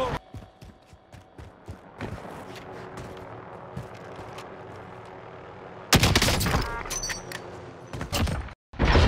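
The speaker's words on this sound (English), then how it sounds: "I'm getting shot at from a different team now." Warzone battle gunfire: bursts of rapid automatic shots and scattered single cracks, some distant and some close, building into a loud sustained volley near the end, with voices talking under it.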